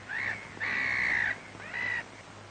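Crows calling on the island of Texel in 1943, three harsh drawn-out caws in a row, the middle one longest, loud and fairly close, alone over a faint low hum.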